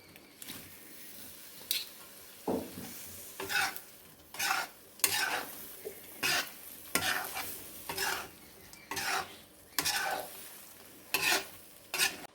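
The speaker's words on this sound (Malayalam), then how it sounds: "എല്ലാം ഇളക്കിയിട്ടുണ്ട്." Soybean stir-fry being stirred in a pan, a series of brisk scraping and shuffling strokes over a soft sizzle, with uneven bursts of spatula movement and no voices.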